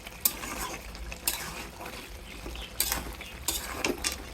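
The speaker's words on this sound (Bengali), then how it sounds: "এভাবে কষিয়ে নেব" Spices being stirred and sautéed in a pan, with a few scraping strokes of a spoon against the metal over a low, steady sizzle. The sound is close and has no talk over it.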